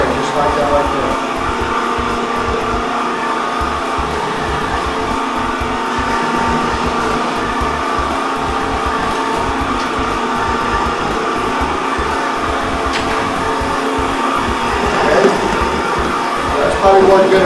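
A VMC marble polishing machine running with TAC-5X powder slurry gives a loud, steady whirring drone that continues unbroken, with a person talking over it.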